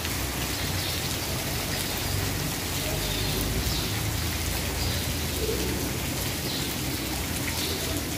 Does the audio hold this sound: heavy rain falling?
yes